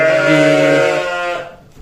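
A single sheep gives a loud, close, quavering bleat that lasts over a second before trailing off, with no talk over it.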